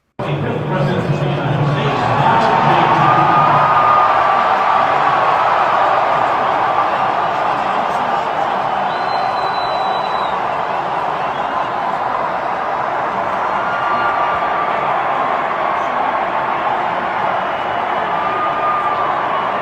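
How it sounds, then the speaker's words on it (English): A packed crowd at an Alabama football game roars continuously and loudly, a dense sustained wall of cheering and shouting with occasional whistles, distant and enveloping, and a voice talks over it. "So it looks like the entire crowd went crazy."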